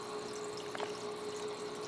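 An Aqua Clear aquarium power filter, refilled with fresh filter media, runs with a steady soft hum and a faint continuous trickle of water, close and even.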